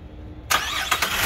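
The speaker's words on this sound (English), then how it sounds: "So turn the car on." A Chevy Traverse, GMC Terrain or Acadia with an overheating problem cranks and fires up, the engine catching and settling into a steady running roar, close and alone with no talk.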